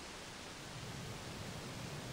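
Steady rain sound effect layered into a relaxation and sleep ambience alongside ocean waves, a continuous even hiss of broadband noise with no distinct drops, constant and moderately loud throughout.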